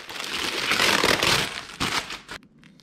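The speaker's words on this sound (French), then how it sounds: "Une fois que c'est fait, on peut déballer comme ça." Backing film peeled off a wetsuit repair patch, a close, loud crinkling tear lasting about two seconds before it stops abruptly.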